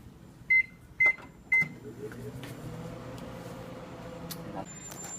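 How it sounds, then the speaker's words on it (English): A microwave oven gives three short beeps, then a steady low hum runs for a few seconds before cutting off, with faint background noise throughout. "Back in the microwave, and then another watchful 30 or so seconds."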